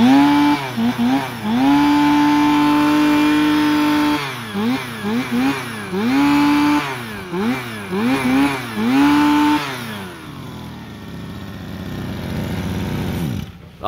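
A Robin two-stroke, twin-cylinder gasoline grass trimmer engine runs loud and close, revving up and down in repeated bursts between steady idling before it cuts off and winds down.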